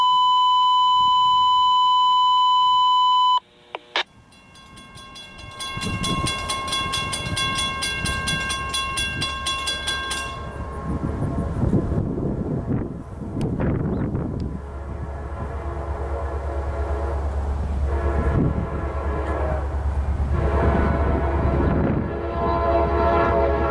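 A CSX train rolling past an equipment defect detector: a steady electronic tone and beeps, then a horn blast and the loud, sustained rumble and clatter of rail cars passing close by.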